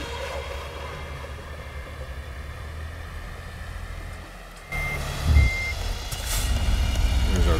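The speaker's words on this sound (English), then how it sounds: "Back it on up." Truck reversing beeps sound while backing up a rig in American Truck Simulator, with steady engine rumble beneath. The beeping stays continuous and clear, and a brief louder hiss and thump come near the end, along with heavier engine noise.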